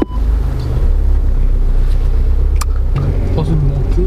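An Audi A3 2.0 TDI quattro diesel pulls away with a steady, low engine drone and buffeting wind noise inside the cabin, while someone talks throughout.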